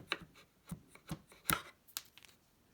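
A handful of sharp scraping and clicking strokes come from a wood chisel trimming the excess off wood plugs set in a stone tile island countertop, close and faint, spaced irregularly with quiet between, without talk.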